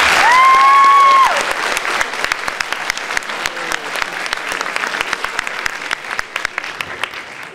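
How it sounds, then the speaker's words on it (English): A large audience breaks into a big round of applause, opening with a loud whistle and settling into dense, sustained clapping that holds steady for several seconds. "I'd like you to join me by giving them a huge round of applause"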